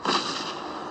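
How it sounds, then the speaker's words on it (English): A single booming cannon blast rings out with a loud, broad roar that fades quickly. "Don't tell me those cannons are aiming at me."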